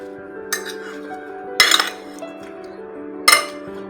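Salt and turmeric stirred into chopped raw mango pickle in a bowl, three sharp spoon-against-bowl clinks spaced about a second apart over a quiet ringing background, close and clear with no talk.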